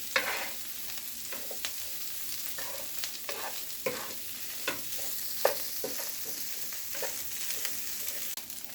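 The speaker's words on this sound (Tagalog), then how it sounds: "Lagay na rin natin ang mga na-chop na leftover na fried chicken. Lutuin lang ito ng ilang minuto." Chopped leftover fried chicken fries in a pan for sisig, with a steady sizzle and repeated scraping and clinking of stirring throughout, close and alone.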